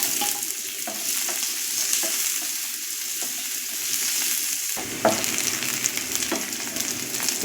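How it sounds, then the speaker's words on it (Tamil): Onions fry with fennel seeds in a pan for kadai paneer, with a loud continuous sizzle broken by stirring scrapes and a sharper burst of frying partway through. "வெங்காயம் போட்டுக்கலாம்."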